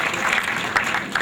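Applause from an audience at an Urdu press club welcome ceremony, a steady dense clatter of many hands filling the room, with a brief louder swell partway through and no talking.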